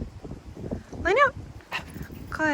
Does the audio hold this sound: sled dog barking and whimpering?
yes